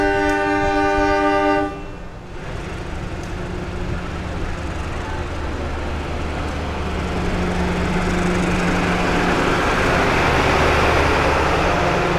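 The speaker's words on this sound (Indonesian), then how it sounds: "kereta api Kuto Jaya Selatan diberangkatkan kembali dari stasiun Gandrung Mangun" Kuto Jaya Selatan passenger train pulling out of Gandrung Mangun station, a steady loud low rumble of rolling wagons building after a brief sustained horn-like tone at the start.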